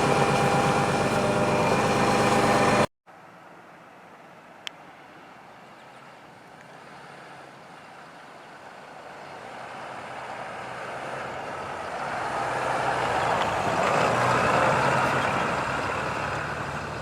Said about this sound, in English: Go for a drive. Give it a test drive.